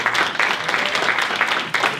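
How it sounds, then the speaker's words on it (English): Audience applause at an NAACP Cleveland Branch community event, a roomful of people clapping steadily and fairly loud for about two seconds with no speech over it. "give a round of applause to one of our amazing leaders in the Buckeye Shaker Woodland Hills community, Adriana."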